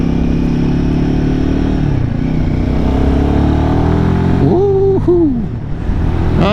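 A Royal Enfield Himalayan 450 motorcycle engine climbs through the revs while riding, its steady loud drone rising in pitch and then briefly dipping near the end, heard close amid wind noise.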